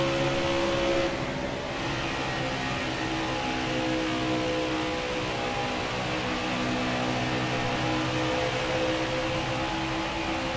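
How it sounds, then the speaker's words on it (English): A race-trim car idles steadily and close by, a continuous engine drone with strong low harmonic bands and broad mechanical noise, holding level without revving up throughout. "I'm running my car I race with here."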